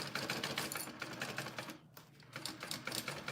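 A sewing machine basts a lining onto a crossbody bag, its needle running in a fast, steady mechanical patter close by, with a brief slowdown partway through before it picks up again.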